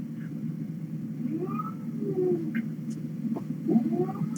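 A cat named Coog meows in a few soft, drawn-out calls over a steady low hum, close by, while being held for a pill.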